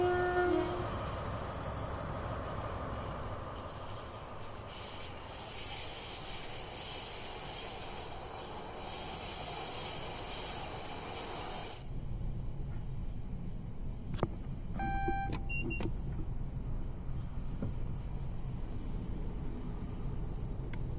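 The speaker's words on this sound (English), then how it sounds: "MTU HST just revving in the background." An MTU-engined HST train in Train Sim World 5 rumbles along in a steady, continuous drone, with a brief horn-like tonal burst partway through; no talking.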